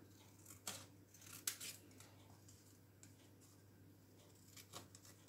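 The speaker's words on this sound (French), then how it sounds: "je viens découper déjà Magie de Noël" Scissors snip paper as Christmas lettering is cut out for a card, giving a few sharp, close clicks and slices with quiet rustling between them in an otherwise calm room.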